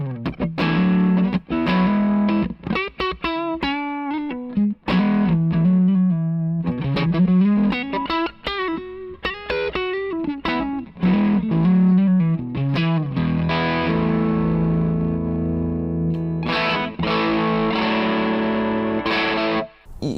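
An electric guitar runs through a Thorpy FX Veteran germanium fuzz pedal, giving a thick, distorted tone. Quick note runs and bends move into heavy sustained chords, and the playing continues without pause and without talk.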